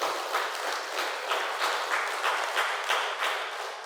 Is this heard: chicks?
no